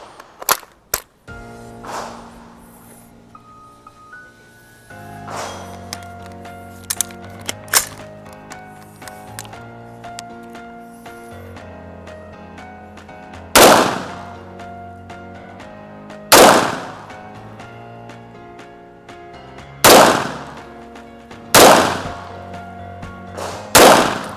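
A CMMG Banshee AR-style gun fires test shots at a target five meters away, loud sharp cracks spaced a few seconds apart over steady background music.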